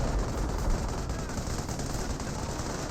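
Sustained machine-gun fire from MG placements in a Company of Heroes battle, loud and continuous, with overlapping bursts forming a dense, unbroken roar of gunfire and no gaps throughout.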